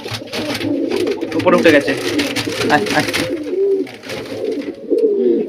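Pet pigeons in a loft, paired off and given a bath, coo in soft repeated throaty calls close by, mixed with a person talking over them.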